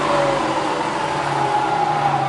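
A Bridgeport Vari-speed milling machine with a 42-inch table runs steadily at 3000 RPM, giving a close, continuous motor whine and hum that holds even throughout.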